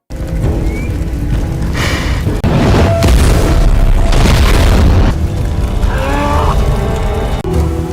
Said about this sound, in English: a gas cylinder exploded